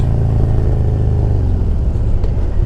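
A Harley-Davidson Road Glide Special with a Star Racing cam rumbles loud and close in a deep, steady engine roar, the lopey low end pulsing throughout.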